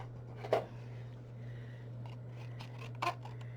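Scissors snip through heavy Recollections 110-pound cardstock in two short, crisp cuts, close by and separated by a quiet pause with a steady low hum beneath.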